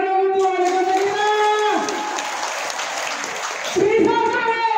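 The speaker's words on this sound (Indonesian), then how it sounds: "Tepuk tangan dong untuk adik-adik kita" An audience at a political speech by a mayoral candidate in Palopo applauds, with clapping running steadily under a sustained tonal voice or music that dominates the mix.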